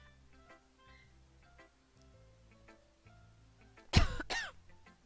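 A single sharp cough bursts out near the end, followed by a shorter second hack, after a quiet stretch of faint ticking game music; close and loud against the soft background.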